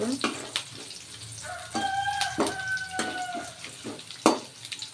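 Cumin seeds frying in a pan for jeera rice give a light crackling sizzle with spatula scrapes and clinks. A few sharp knocks stand out, and a brief metallic ringing tone runs under them.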